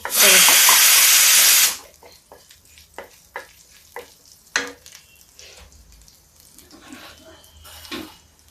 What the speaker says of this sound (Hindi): राई का तड़का हो गया है